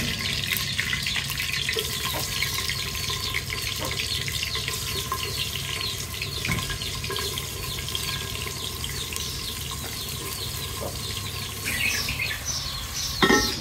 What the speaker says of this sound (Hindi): घ्यो सारा गर्म हो गया, तो हूँ असा ऐड कर प्याज